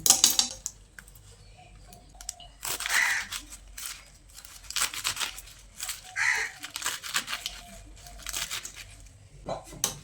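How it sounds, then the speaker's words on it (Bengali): A knife slicing through spinach leaves in a home kitchen, sharp crisp cuts arriving in irregular bursts, close and clear, with a voice talking between them. "একইভাবে সমস্ত শাকটাকে আমি কেটে নিচ্ছি"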